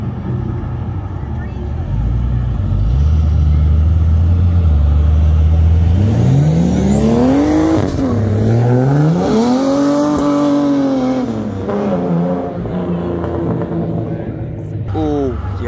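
Cars leave a Cars and Coffee meet in Brisbane, one engine revving hard through loud rising and falling sweeps close by, with a short squeal at the peak and people talking before and after.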